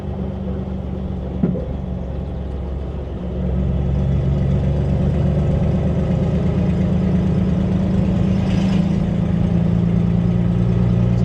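1968 Ford Ranchero propane-fuelled engine idling with a low steady rumble, a brief knock early on, then a step up to a louder, fuller drone that holds to the end.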